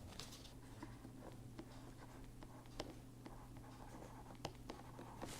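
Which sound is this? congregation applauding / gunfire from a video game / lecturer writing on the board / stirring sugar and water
lecturer writing on the board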